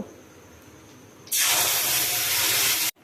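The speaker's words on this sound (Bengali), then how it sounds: "ওই তেলের মধ্যে একটু তেজপাতা একটু গোটা গরম মশলা আর একটু জিরে ফোড়ন দিলাম আর এর মধ্যে আমি পেঁয়াজ আর টমেটো বাটাটা দিয়ে দেব" Onion and tomato paste hits hot oil already seasoned with bay leaf, whole garam masala and cumin, bursting into a loud, steady hiss that holds for about a second and a half after a quiet start, then cuts off abruptly.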